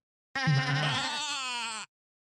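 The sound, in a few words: goat bleat sound effect from a sound button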